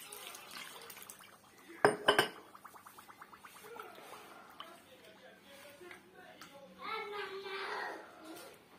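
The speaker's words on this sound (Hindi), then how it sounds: "ये देखें हमने इसको अच्छे तरीके से मिक्स कर दी है।" Semolina soaks in water in a pot and is stirred with a utensil, giving clinks and scrapes against the pot, a couple of sharper knocks, and faint wet sloshing while a person speaks over it.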